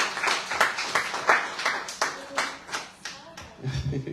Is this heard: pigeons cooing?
no